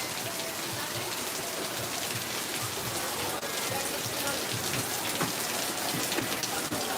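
Steady rain falling at an outdoor theme park, a dense continuous hiss of drops on surfaces with no break, even and moderately loud throughout.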